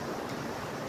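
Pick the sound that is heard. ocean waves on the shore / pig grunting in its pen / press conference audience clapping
ocean waves on the shore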